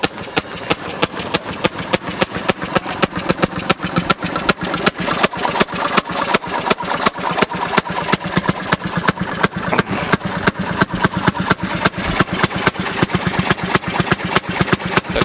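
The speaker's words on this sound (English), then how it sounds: "With the very little tension on this lever, this is the belt tension, and slowly put pressure on it. And away we go." A Fairmont S-2 railroad motor car's engine runs steadily in a rapid, even chugging rhythm of firing pulses, loud and close, with a faint metallic rattle and no voices.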